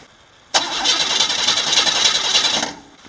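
A six-cylinder car engine cranks and catches with a sudden loud burst after a quiet half second, then runs roughly for about two seconds before cutting out.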